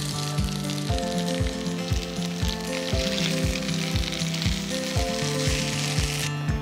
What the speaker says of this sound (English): I'm just going to flip the potatoes around, the hash browns around